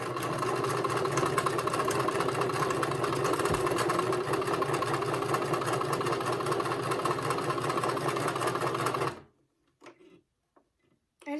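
A sewing machine runs steadily, slowly stitching a circle on a stuffed fabric fish, its fast motor whir and needle ticking continuing for about nine seconds before stopping abruptly, leaving a few faint handling clicks.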